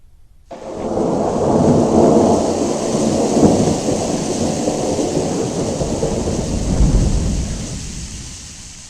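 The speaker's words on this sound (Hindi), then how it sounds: "ये बारिश है कि रुकने का नाम नहीं ले रही है।" Heavy rain pours down with rolling thunder. The rain comes in abruptly and stays loud and dense throughout, with low rumbles swelling beneath the hiss.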